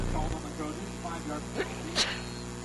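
A single sharp sneeze bursts out over steady background chatter and broadcast commentary, brief and fairly close.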